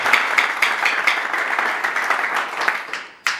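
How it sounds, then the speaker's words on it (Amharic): A wedding congregation claps for the newlyweds in a brief burst of close, moderately loud applause that thins out quickly, ending with a single sharp clap. "እስኪ ለነዚህ ሙሽሮች፣ ለዛሬ እንግዶች፣ ለአጃቢዎችም ጭምር አጨብጭቡ ለጌታ።"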